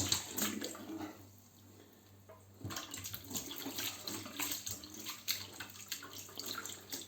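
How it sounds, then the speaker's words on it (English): Ice-cold tap water runs into a sink to rinse and cool freshly cooked food, a steady close splashing stream that briefly quietens before gushing on again, with no talk. "this is ice cold water from the tap"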